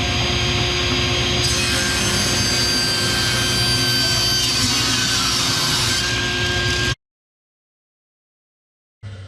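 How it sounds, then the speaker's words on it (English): A Jet shaper spins and cuts a wooden test board for tongue and groove work, a loud steady whining roar with rough rasping cutting noise for about seven seconds, then abrupt silence before a short burst returns. "All I'm doing here is making a board that I can run through the shaper as a test."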